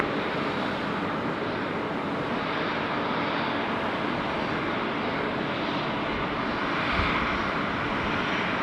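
Broadband roar of a Qantas Airbus A330-300 jet starting its takeoff roll at Sydney Airport, a steady, loud, wind-like rush that holds level throughout with no talk.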